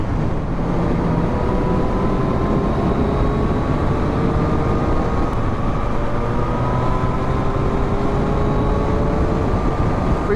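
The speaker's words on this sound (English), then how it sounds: "You pin the throttle and it just goes." A Triumph Street Triple motorcycle pulls hard under full throttle, its engine note rising steadily in pitch as it accelerates, loud and continuous alongside heavy wind roar, with no other sounds over it.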